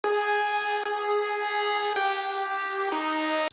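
Sustained synth chords without a trance gate effect, held smooth and steady with three chord changes, moderately loud and alone.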